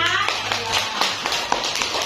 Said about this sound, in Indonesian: Oke, kita tepuk tangan dulu semua